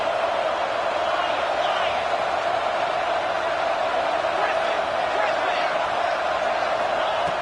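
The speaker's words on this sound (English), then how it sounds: "this big crowd doing everything possible to inspire this defense down here near the goal line" Big crowd at a college football game between Colorado and Texas A&M roaring steadily from a distance, a continuous wash of cheering through the whole stretch with commentary talk over it.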